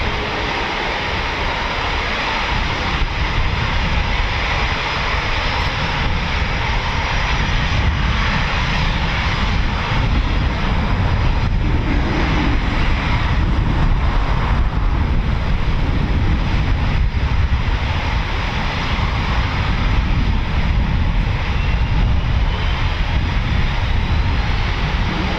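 A Eurofighter Typhoon FGR4 jet with EJ200 engines flies at RAF Coningsby, giving a steady, loud, broadband engine roar that continues for the whole stretch with no talking.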